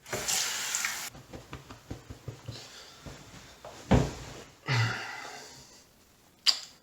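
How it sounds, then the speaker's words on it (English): A bathroom tap runs in short bursts while someone rinses alum off a freshly shaved face, with soft splashes and knocks and a couple of louder gushes of water near the end. "I'm just gonna rinse it off"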